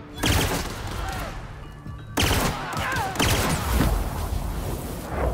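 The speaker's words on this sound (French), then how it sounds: "Ouh, c'est un pistolet automatique." Rapid bursts of automatic pistol fire in The Outer Worlds video game, dense overlapping shots running continuously with a sharp renewed burst midway, loud and close.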